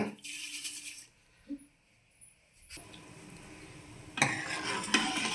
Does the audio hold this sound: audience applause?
no